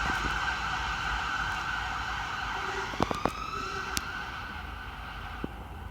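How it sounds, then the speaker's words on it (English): A Bedfordshire fire engine, Engine 77, leaves Stopsley Fire Station with its siren sounding from a distance, a steady wail over traffic rumble. A few brief clicks and pops are heard near the middle. "That's engine 77 dispatching from Stopsley Fire Station."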